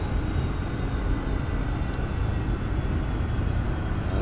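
Boeing 747 jet engines in X-Plane 11 throttle back, producing a steady, broad rumbling roar that holds even and continuous, heard close and loud with no voices.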